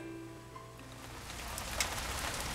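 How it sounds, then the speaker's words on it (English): Steady rain falls outside a workshop on a wet day, a soft continuous hiss of drops on surfaces with no talk. "I don't think it's going to stop raining today"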